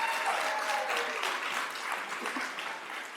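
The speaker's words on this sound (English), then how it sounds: "would you give all of the honorees a round of applause as well?" At a Columbus City Council Black History Month celebration, an audience gives the honorees a steady round of applause, a dense wash of clapping that eases slightly toward the end.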